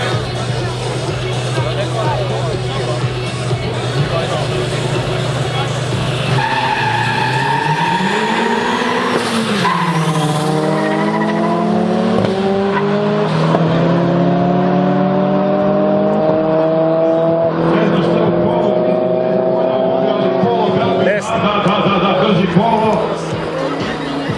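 A Volkswagen Polo and a Volkswagen Beetle race, engines roaring continuously, rising and falling in pitch as they accelerate, with tire squeals and skids over steady crowd and commentary noise.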